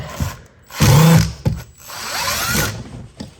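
A ratchet loosens a T20 screw on the front driver side door of a 2014 Chevy Cruze in close, loud bursts of clicking, with one longer sweep and a few shorter turns.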